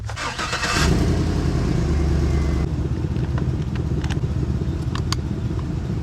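A pickup truck engine cranks and catches loudly in the first second, roars briefly at higher revs, then settles into a steady idle while running to jump-start a battery.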